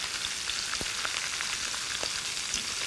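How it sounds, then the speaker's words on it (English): Veal shanks for osso buco browning in a hot pot give a steady, moderate sizzle, with a few soft clicks and knocks as the meat is turned. "I'm going to go ahead and turn these because we want them beautifully browned on both sides."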